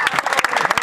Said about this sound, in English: let's stand together and applaud our true heroes